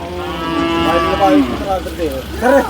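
A bull at a cattle market lets out a loud, close moo that rises and falls, followed by a couple of shorter bellows, over a low background murmur.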